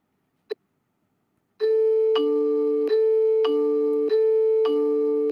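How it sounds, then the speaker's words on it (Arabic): A doorbell at an apartment door rings after a single click, sounding a loud, close electronic ding-dong chime that repeats about four times in steady succession. "هرن الجرس"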